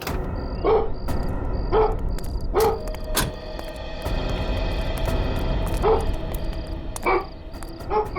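A dog barks repeatedly outdoors near a parked van, a series of sharp, moderately distant barks spaced irregularly over a background of ambient noise and a high tonal hum.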